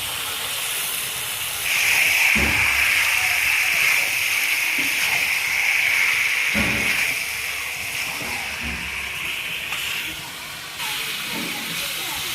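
Chicken pieces dropped into hot spiced oil in a pan erupt into a loud, bright hissing sizzle that holds strong for several seconds and then fades slightly, with occasional clatters of stirring and light talk.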